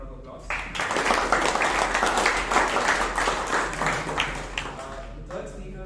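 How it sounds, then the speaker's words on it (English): Audience applause at a Toastmasters meeting in Bangalore, a steady round of clapping that holds for several seconds with some talk mixed in, then tapers off at the end. "Round of applause"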